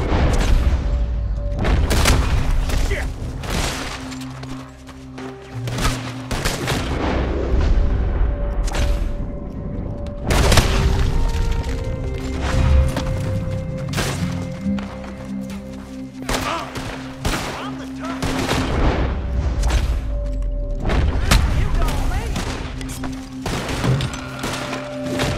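Enemy gunfire in Red Dead Redemption 2, a dense, loud fusillade of repeated shots and booming impacts filling the whole stretch, with bursts and pauses throughout.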